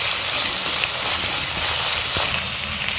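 Ginger paste sizzling in a pan of hot oil, a steady loud frying hiss that continues throughout with no talking.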